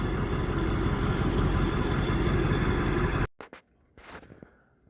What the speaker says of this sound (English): Probably can't hear me over the diesel.